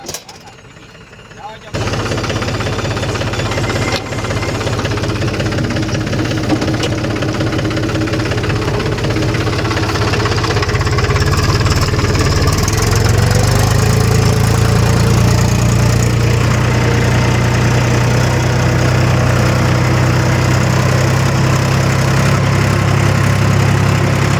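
A tractor engine runs while ploughing a field during the monsoon, a loud steady rumbling drone that starts after a brief quiet moment and carries on throughout, with a voice talking over it.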